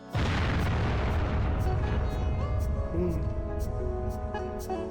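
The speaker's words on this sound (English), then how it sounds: "There's the sound of a siren, an explosion, and Sho is left wondering how any of this could have happened." A loud explosion in a Squaresoft racing RPG video game, a sudden heavy boom at the start followed by a long rumbling, ringing decay with scattered debris crackles.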